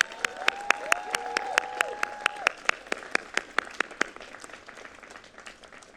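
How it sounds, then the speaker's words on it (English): Audience applause fills the hall at a UCLA Herb Alpert School of Music commencement. Dense clapping comes with distinct nearby claps ringing out, while a sustained tone and voices sit beneath it before the applause fades. "Let's give them another round of applause."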